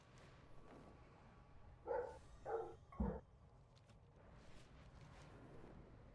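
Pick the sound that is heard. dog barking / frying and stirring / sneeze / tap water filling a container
dog barking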